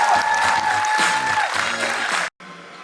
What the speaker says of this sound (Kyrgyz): дагы бир жолу дух берип катуураак кол чаап койсоңуздар